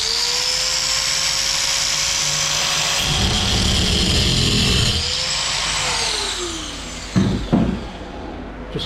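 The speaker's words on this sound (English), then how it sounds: "So here I have my grinder with a flat" A loud, whining angle grinder with a flat cutoff wheel runs continuously, its pitch sliding up and down as it cuts during demolition work on a school bus, ending with a few short bursts near the end.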